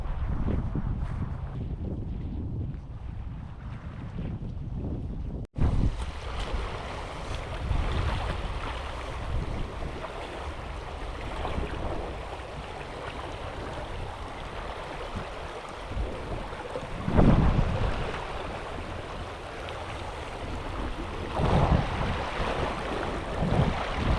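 Wind blowing across open water beside a small boat, a steady rushing roar with buffeting gusts on the microphone and a faint wash of lapping water, with no voices.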